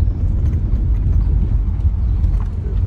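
Mule hooves clip-clopping on a road in the Ourika Valley near Marrakech, a dense, loud, close patter of hoofbeats over rumbling traffic-like background noise, with no voices.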